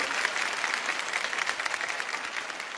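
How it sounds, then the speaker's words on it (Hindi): Loud, sustained applause from an audience honoring Rajat Sharma at the 21st-anniversary event of Aap Ki Adalat, dense clapping held steady throughout and tapering slightly at the end. "एक बार जोरदार तालियां रजत जी के लिए बजाएं"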